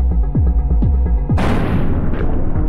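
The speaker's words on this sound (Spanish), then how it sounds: "Y ahora le disparo a él." A shotgun blast in the Buckshot Roulette video game: one loud, heavy boom with a long rumbling tail, following a series of rhythmic low mechanical thumps.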